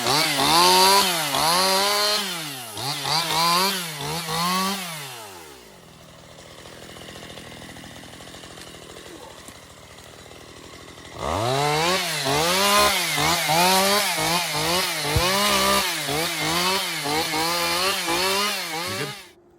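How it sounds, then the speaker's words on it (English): A chainsaw cuts bait logs at a bear hunting camp, revving hard through repeated rising and falling bursts at close range, dropping to a rough idle midway before cutting loudly again. "we just got all the bait logs cut"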